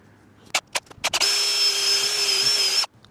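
A power drill whirs steadily for about a second and a half near the mic, preceded by several short trigger bursts, while anchoring a shed into the ground with earth anchors.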